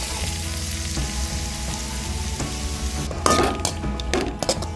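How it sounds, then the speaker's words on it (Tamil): Onions drop into hot groundnut oil and burst into a loud, close sizzle near the end, after a steady background hum and light clinks of a utensil against the pan. "எண்ணெய் ஊற்றி வெங்காயத்தை போட்டுக்குவோம்."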